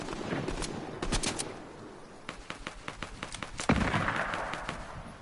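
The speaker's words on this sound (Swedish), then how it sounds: "Vänta, det är en skott här, Axel." Rapid bursts of gunfire in the game Fortnite crackle in quick succession, some sharp single shots and some clustered volleys, over a steady ambient rumble with no talking.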